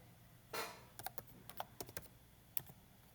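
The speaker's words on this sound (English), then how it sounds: "Add a table, type everything in." Computer keyboard typing as values are entered into a table: a burst of close, sharp key clicks in an irregular rhythm with a louder clack at the start, no speech.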